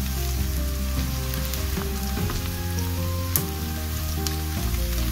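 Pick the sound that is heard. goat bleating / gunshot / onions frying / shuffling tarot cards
onions frying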